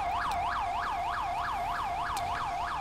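A Ram ambulance siren in GTA 5 with a paramedic mod wails in fast, regular up-and-down sweeps, loud and steady throughout, with a faint background rumble and no talking.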